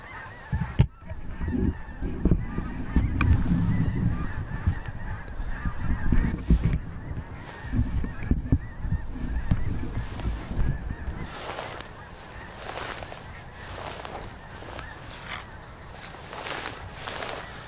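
A flock of about 100 geese honks in flight, a busy chorus with many birds calling at once, low rumbling noise early on and louder honks standing out later.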